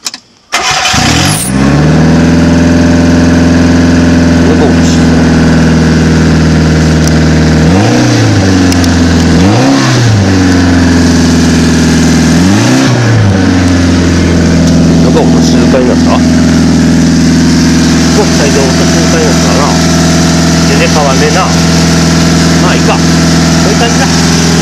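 A near-scrapped Mitsubishi Minica kei car with an exhaust giving a V8-like rumble starts up and idles loudly and steadily, with a few blips of revving early on, close to the microphone.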